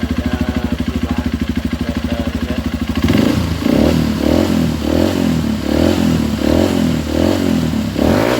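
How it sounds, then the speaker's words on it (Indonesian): A Honda CRF150 dirt bike with a racing exhaust idles with a steady close thump for a few seconds, then revs louder in repeated uneven blips. "Kalau suara mesin masih standar, tidak ada perubahan."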